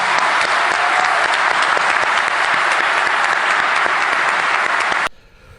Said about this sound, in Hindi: कितनी तालियां बाज रही हैं।